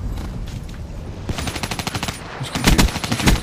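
Rapid automatic gunfire in a first-person shooter game, bursts of dense cracking shots that grow louder and busier toward the end, with no talking over them.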